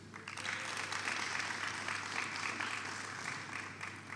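Steady, dense applause from an audience at a scholarship presentation ceremony, sustained throughout with no pauses, no talking heard over it.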